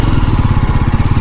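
A motorbike idles in the parking area of the BAPS Shri Swaminarayan Mandir at Pailan, Kolkata, with a close, steady, low throbbing engine pulse throughout and no voices.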